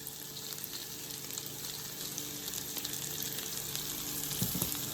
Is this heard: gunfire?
no